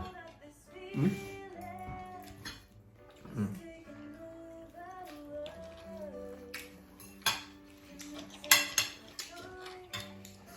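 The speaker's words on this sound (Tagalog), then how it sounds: "si Utoy naghuhugas ng plato" Dishes are washed at a kitchen sink, with clinking plates and rattling cutlery arriving in irregular close bursts amid running-water noise and faint background voices.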